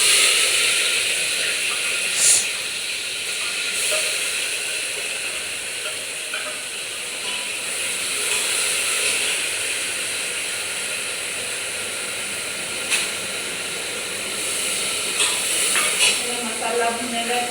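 Masala spices sizzling and frying in a home kitchen pan with taro root (arbi), a steady broadband hiss running throughout at moderate level with a few brief clinks and pops.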